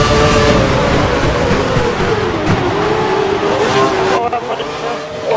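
Race car engines in the F1 2012 video game at the India circuit, with an HRT approaching: a loud, sustained engine whine that shifts in pitch, with someone talking over it.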